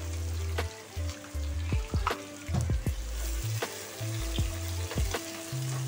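Sliced onions frying in a pan for a mixed vegetable pulao, a steady soft sizzle with occasional stirring scrapes and clinks, close and fairly quiet.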